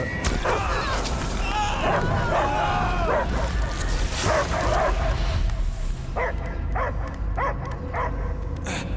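A dog barks and yips repeatedly amid a dense, noisy Guardians of the Galaxy game soundtrack, with a voice speaking over the start.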